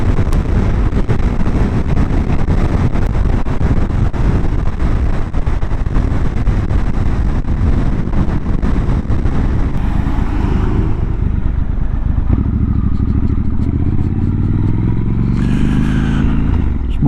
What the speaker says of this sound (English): you're in the full force of the wind here